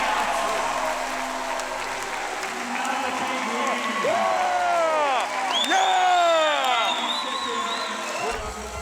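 A crowd cheers and applauds at an International Swimming League meet as a race finishes, a loud sustained roar with whoops and whistles, with a commentator talking over it.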